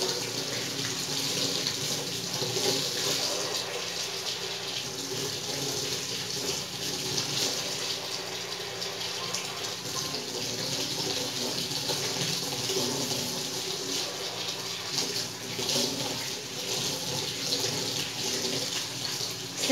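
Steady, close rush of water from a tap into a sink while hands are rinsed under it, running continuously with no talk.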